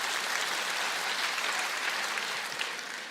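A live comedy audience claps steadily, a dense, even wash of applause from many hands that holds at full strength before easing slightly at the end.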